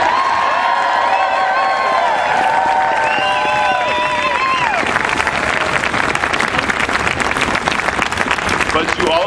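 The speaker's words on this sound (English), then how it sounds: "Let's give them a round of applause." A rally crowd bursts into loud applause and cheering, with whoops and shouts at first giving way to dense, sustained clapping from many people nearby.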